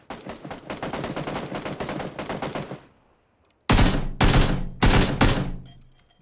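Rapid gunfire from a video game, a dense run of automatic shots for about three seconds, then after a brief silence several loud, close bursts of shooting.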